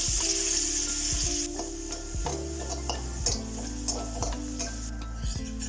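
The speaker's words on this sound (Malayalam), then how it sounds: "അതിലേക്ക് വെളുത്തുള്ളി ആദ്യം ഒന്ന് സോട്ട് ചെയ്തെടുക്കാം" Garlic, ginger and green chillies sauté in a pan, a soft sizzle under intermittent stirring clinks and scrapes of utensils against the pan, fairly close and quiet.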